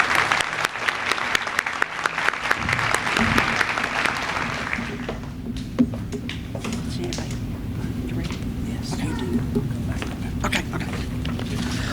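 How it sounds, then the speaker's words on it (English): Applause at the East Alabama FAME Signing Day, with dense crowd clapping for the first few seconds that thins out into scattered claps, then a low murmur of the room with voices. "Let us give you a round of applause."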